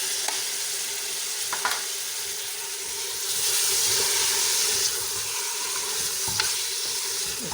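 Mutton pieces fry in an oiled pan for aloo gosht, a constant hissing sizzle punctuated by occasional clinks of a spoon as the meat is stirred, swelling briefly louder midway.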